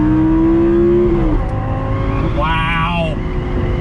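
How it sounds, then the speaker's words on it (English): A Lamborghini Gallardo V10 revs hard on throttle from inside the cabin, a loud, close engine note that climbs in pitch, drops, then rises again with a sharp, rasping swell. "The sound of that V10 is glorious though, absolutely glorious."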